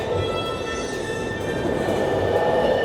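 The Wonder Woman roller coaster train at Six Flags Fiesta Texas rumbles along its track close by, a continuous loud roar of wheels with a faint high squeal running through it.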